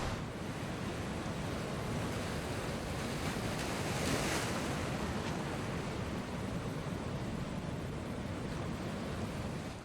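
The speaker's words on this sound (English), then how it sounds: "Waves are already splashing the seawall" Steady, roaring surf pounds and splashes against a seawall on Galveston Island as Hurricane Ike approaches, a continuous dense wash of waves with wind buffeting throughout and no voices.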